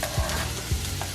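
Steady frying sizzle of onions in a pan, a constant crackling hiss with a couple of soft low thumps like a utensil stirring.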